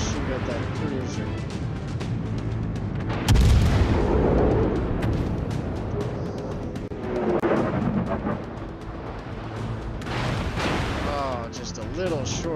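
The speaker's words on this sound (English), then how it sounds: "We're gonna shoot at that cruiser." Naval guns firing at a cruiser in World of Warships, a heavy booming salvo followed by further rumbling shots and splashes, with someone talking over the battle.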